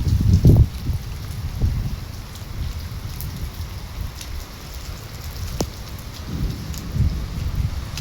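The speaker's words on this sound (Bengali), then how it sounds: "কারণ বৃষ্টি ভোর রাত থেকেই হচ্ছে" Steady rain pours onto a flat rooftop terrace with standing water after hours of rainfall, a dense continuous hiss with low rumbling swells and occasional louder drops.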